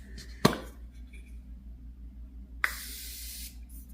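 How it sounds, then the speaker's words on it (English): A makeup puff being spritzed with setting spray: one short sharp hiss, then after a pause a longer breathy spray burst lasting about a second, in a quiet room. "before I use my concealer, I'm going to spray this puff."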